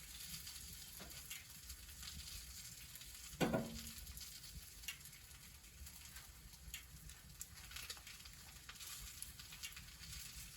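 An egg topped with cheese fries on a potbelly stove, giving a steady soft sizzle throughout with one sharp clack partway through; no one speaks.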